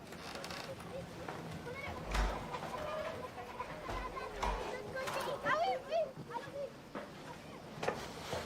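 A farmyard rooster and hens clucking in a French family film set in the countryside, with faint scattered clucks and bird calls in the background amid rustling outdoor ambience.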